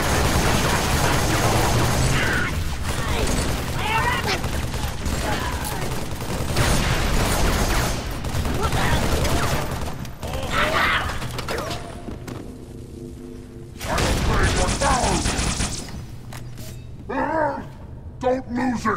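Rapid bursts of gunfire and thuds from the video game Halo 3, sustained through most of the stretch with mechanical clanks, shouted voices over the shooting, and a brief near-silent gap late on.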